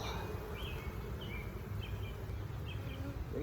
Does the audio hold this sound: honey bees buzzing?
yes